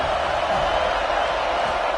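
A football stadium crowd at a college game roars in a steady, loud, dense wall of cheering that holds without a break.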